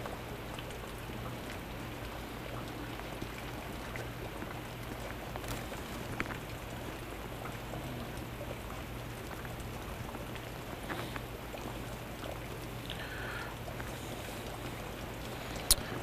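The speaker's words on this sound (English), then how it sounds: "starting to rain a little harder." Rain falling on a lake, steady and continuous across the whole stretch, a soft hiss of drops striking the water with a faint low hum underneath and no voices.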